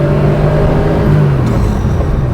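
A 1974 Porsche 911 2.7 RS pulls hard uphill out of a corner, its engine note a loud, steady droning rumble heard from inside the car, rising slightly in pitch midway.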